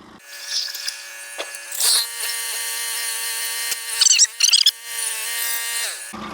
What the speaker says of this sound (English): Now we're going to spin it up and mill it out on 4/4 scale.